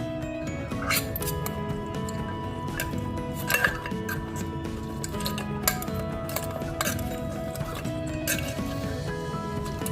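Dishes and cutlery clink steadily while Thai fish khanom chin and seafood som tam are plated, a busy run of small metallic taps and scrapes with a couple of sharper knocks, close by, with no talk over it.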